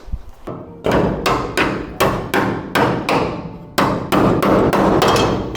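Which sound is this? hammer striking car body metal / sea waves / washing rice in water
hammer striking car body metal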